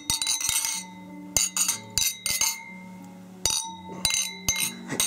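Glasses clink together in a celebratory toast at a 2016 holiday dinner party, several bright, ringing taps in quick clusters with short pauses between them, fairly close, and no talking over them.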